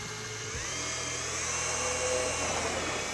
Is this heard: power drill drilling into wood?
yes